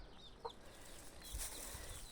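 A hen named Zoé gives a few soft clucks and a brief flutter outdoors, faint and fairly close, with a light rustle underneath and no talking.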